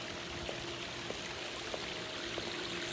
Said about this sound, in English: it just sounds peaceful back here. The babbling brook